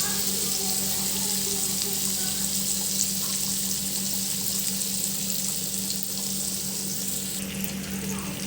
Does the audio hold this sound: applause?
no